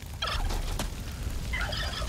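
Wild turkeys gobbling in the video game Far Cry 5, two rapid warbling gobble bursts near the start and end with a sharp thud between, over a constant low rumble of game ambience.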